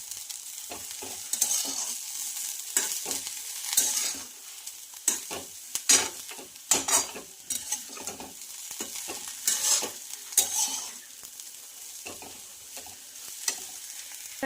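Egg fried rice with turmeric and coriander is stirred in a pan, with repeated close scraping and tossing strokes in an uneven rhythm over a faint sizzle and quiet gaps between strokes.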